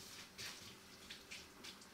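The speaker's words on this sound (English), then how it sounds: "let me rinse out my measuring cup here" Tap water runs over a measuring cup being rinsed in a kitchen sink, a faint, steady hiss with a few louder splashy surges, close by and with no talk.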